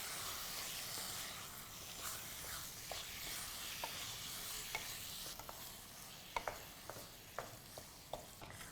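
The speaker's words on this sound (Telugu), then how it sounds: "ఈ మసాలా కీమా రెండు మంచిగా కలిసిపోయేటట్టు మంచిగా కలుపుకోవాలి" Minced keema mixed with masala is stirred in a pan over a quiet sizzle, with soft scraping strokes and a series of light clicks of the spoon against the pan that grow more frequent toward the end.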